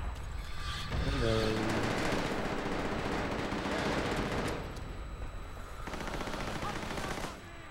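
Booming explosions and rattling automatic gunfire in a Call of Duty: World at War team deathmatch, a dense, loud, continuous barrage of shots and blasts with a brief voice under the din.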